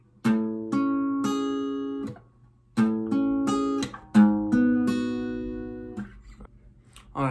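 A guitar plays a riff as clean, separately plucked notes with sharp attacks that ring out and fade, grouped in short phrases with brief gaps, close and moderately quiet with no talking.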